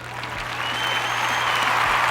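A short burst of crowd applause, a steady, fairly loud wash of clapping that holds evenly for about two seconds, with a faint tone beneath it.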